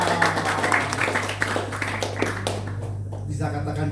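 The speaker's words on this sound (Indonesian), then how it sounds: "tepuk tangan dulu dong" A church congregation at a worship service in Pluit, Tangerang claps in a burst of scattered, close applause over a steady low hum, and the clapping thins out toward the end.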